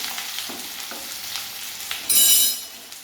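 Pirandai (adamant creeper) fries in hot oil in a kadai, a steady close sizzle with light stirring scrapes and a brief louder hiss surging near the end, no voices.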